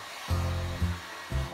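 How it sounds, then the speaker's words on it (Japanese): A handheld hair dryer blowing while styling hair, heard as a steady close airflow roar with three louder surges as it is moved around the head. "ドライヤーで乾かしていきたいと思います。"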